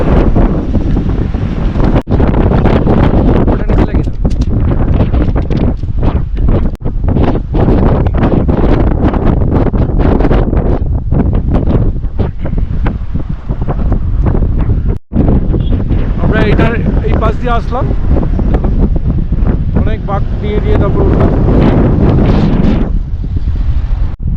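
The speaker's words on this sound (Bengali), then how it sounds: "প্রচণ্ড হাওয়া বইছে" Fierce wind roars at Fotu La, a 13,479-foot pass on the Srinagar–Leh road. It batters the microphone loudly and continuously, with buffeting gusts and only a brief dip.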